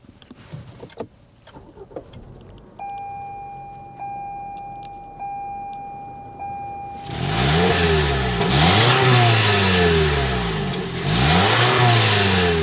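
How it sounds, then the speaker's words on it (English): A chime tone and faint clicks precede a 2024 Toyota RAV4 XLE engine firing up, then several loud revs rise and fall, the deep exhaust note rumbling strongly close by. "start it up so you can hear that exhaust note"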